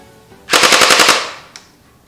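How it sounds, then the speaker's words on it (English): An Orbeez water bead pellet gun fires a rapid burst of about eight sharp mechanical shots lasting under a second, loud and close outdoors, followed by one faint single pop. "show you what it looks like when they shoot"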